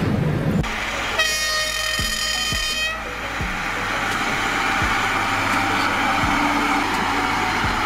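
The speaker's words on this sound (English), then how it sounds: "A railbus is a hybrid between a bus and a train, running on rails and typically used on short routes or in rural areas." A railbus, a light bus-like rail vehicle, runs along the track with a steady rumble, a loud horn-like tonal blast in the middle, and a series of regular rail-joint clacks passing close by.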